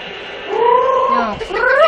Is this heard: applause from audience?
no